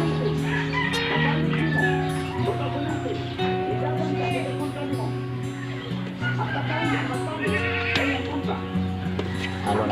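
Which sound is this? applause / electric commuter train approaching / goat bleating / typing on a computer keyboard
goat bleating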